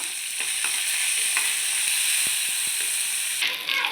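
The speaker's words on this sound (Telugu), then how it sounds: "ఇప్పుడు ఇది కొంచెం ఫ్రై అవ్వనిద్దాం" Cumin seeds fry in hot oil in a pan, a loud, steady crackling sizzle with a few soft stirring taps, close by and without speech.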